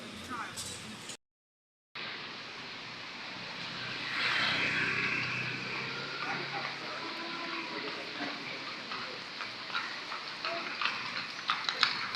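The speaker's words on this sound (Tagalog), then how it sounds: "May isa pang kabayo." Horse hooves clip-clopping on a street in Chinatown, Manila, irregular hoof strikes rising toward the end amid busy traffic and city bustle, with people talking nearby.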